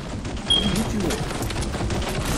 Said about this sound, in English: Oh god, it's a minigun.